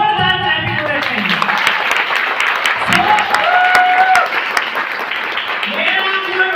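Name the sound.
audience applause at a stage event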